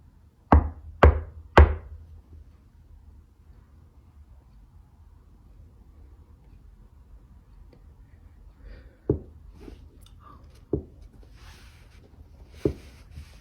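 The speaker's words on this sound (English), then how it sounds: "That's a solid knock." Knocks from beneath a basement floor: three sharp, solid raps in quick succession, then a long quiet stretch before a few more isolated, fainter knocks spaced apart, with no talking.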